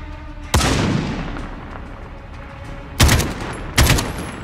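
Three loud, sharp gunshot bursts in Call of Duty: Modern Warfare (2019) gameplay, one early and two close together near the end, each cracking and trailing off into a reverberant tail.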